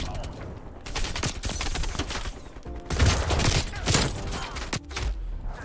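Rapid gunfire from a Call of Duty: Cold War multiplayer match, including shotgun blasts, fills the whole stretch with dense overlapping shots and sharp bursts at close range, with a loud cluster near the middle.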